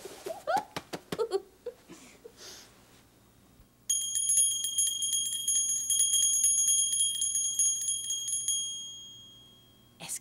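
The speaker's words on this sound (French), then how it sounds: "La petite cloche. On fait la petite cloche ensemble." A small bell chimes in a steady, bright ringing run lasting several seconds and then fading off, preceded by a few sharp knocks and a child's giggle.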